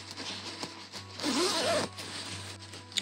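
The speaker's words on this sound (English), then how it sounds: "So open our zip again." An invisible zipper being pulled open on a sewn skirt, one smooth rasping zip lasting under a second, close and fairly quiet against light room noise, with no talking.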